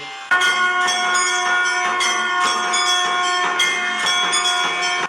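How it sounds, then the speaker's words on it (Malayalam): A small metal hand bell shaken continuously, giving a bright sustained ringing with rapid repeated jingles that stays loud and close throughout, with no talking. "മണിയുടെ സൗണ്ട് മാത്രമേ ഉള്ളൂ, മണി കാണുന്നില്ല"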